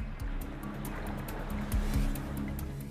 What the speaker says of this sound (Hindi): तट की ओर आने वाली लहरें 6-6 मीटर ऊंची होती हैं।